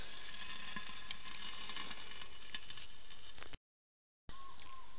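Potatoes sizzle over a wood gas stove fire, a faint, steady crackling hiss that cuts out briefly to silence before resuming.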